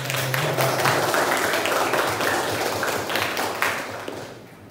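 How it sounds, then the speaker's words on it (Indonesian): Audience applauding for the candidate pairs at a debate, a dense, steady patter of many clapping hands that holds for several seconds, then thins and fades toward the end. "Sebelumnya saya boleh minta tepuk tangannya sekali lagi untuk paslon"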